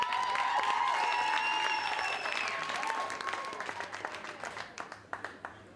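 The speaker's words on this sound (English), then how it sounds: "Let's give Laz a round of applause" Crowd applause and cheering for Laz at a comedy roast, loud clapping with whoops and whistles that thins out into scattered individual claps.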